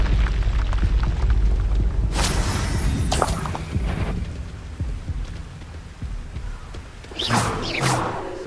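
Confringo fire blasts erupt in Hogwarts Legacy combat, loud crackling bursts and shattering crashes spaced a second or so apart, with a whooshing impact near the end over a rumbling low backdrop.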